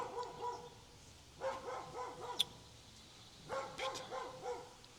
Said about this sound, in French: Là, c'est mon chien qui m'embête à aboyer pour rien.